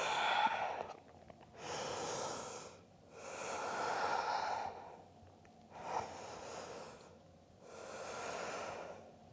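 Five slow, deep breaths drawn while holding a vinyasa yoga forward fold, each a long airy whoosh of roughly two seconds separated by brief quiet gaps, close and clear with no speech.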